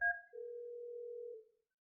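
A desk telephone sounds while an extension is dialed during a supervised call transfer: a brief two-tone blip, then a steady single electronic tone holding for about a second before cutting off, clean and quiet.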